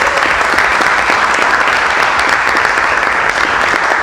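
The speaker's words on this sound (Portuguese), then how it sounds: "Você pode dar um aplauso para o Senhor?" Loud, dense applause from a church congregation at a prayer and worship gathering held at ALESP in São Paulo, sustained and even throughout without talk.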